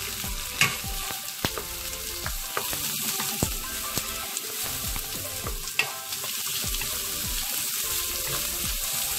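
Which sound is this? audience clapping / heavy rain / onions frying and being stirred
onions frying and being stirred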